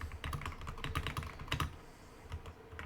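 Fast, steady clicking with a typing rhythm from a computer in a War of the Worlds movie scene, fairly close and moderately quiet. The clicks run throughout with no voices over them.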